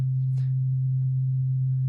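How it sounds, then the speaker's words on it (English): A pure single-frequency sine wave tone sounds steady and loud, holding one unchanging low-pitched note from start to finish with only faint background blips. "which is a sine wave"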